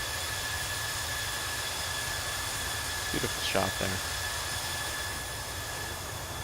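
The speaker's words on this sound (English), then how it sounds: "You guys can hopefully hear those engine sounds pretty well." Airbus A321 jet engines climbing out of San Francisco after takeoff in Microsoft Flight Simulator 2020 make a steady, broad roar that fills the whole stretch, while someone briefly speaks over it partway through.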